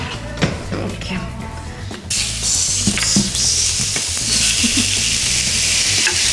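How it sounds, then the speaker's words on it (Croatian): Chicken frying in a wok with a drop of oil for a peanut chicken dish, starting with clattering stirs before a loud, dense sizzle surges in and holds steady up close. "Sad ćemo lagano popržiti piletinu. Kapić ulja ćemo dodati samo da se ne lijepi."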